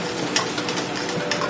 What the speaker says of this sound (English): All I'm doing is adding the hot mixture to the eggs, slowly stirring.